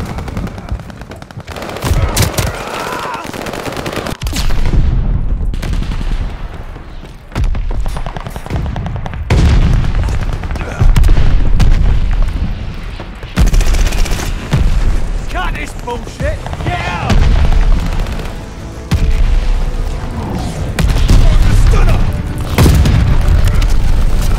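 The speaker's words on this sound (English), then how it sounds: "Allied mortar fire coming!" Mortar blasts and gunfire in Call of Duty Vanguard multiplayer, with loud repeated booms and rattling shots running continuously throughout and a voice calling out between them.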